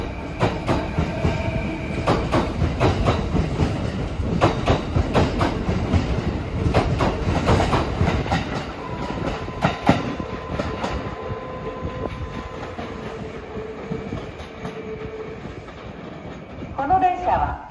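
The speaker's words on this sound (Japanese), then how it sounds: "A train bound for Nara is arriving at track 2." A Nara-bound train rumbles and clatters into track 2 at Yamato-Saidaiji station in Japan with rhythmic wheel clicks, slowing down; a faint tone sounds midway and a short high squeal comes at the end.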